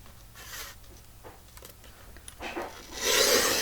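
A single sheet of patterned paper is cut for a craft project, a steady close rasping slice that grows louder and brighter toward the end, with no talk over it.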